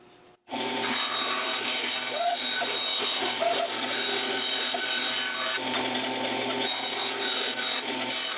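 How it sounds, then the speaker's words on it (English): Bandsaw slicing small wood pieces, honey locust and maple, for segmented oval boxes: a steady close whirring hum runs throughout with shifting rasping cuts, starting abruptly after a brief quiet moment. "So next I'm just slicing these pieces around on the bandsaw"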